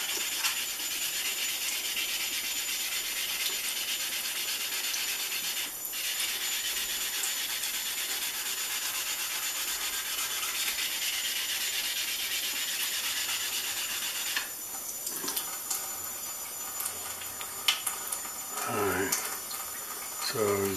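Steady abrasive rubbing of sandpaper on a clear plastic canopy of a Corsair scale model, a continuous close scratchy hiss with a brief break midway, then a few light knocks and handling sounds near the end.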